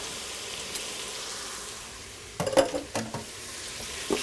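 Minced garlic stirred in the hot pot of an Instant Pot, a soft steady sizzle with a few brief bursts of spoon scraping against the metal pot midway, no voices.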